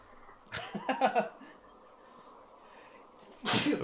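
A short run of snorting, laugh-like bursts gives way to quiet, then one loud, close sneeze near the end.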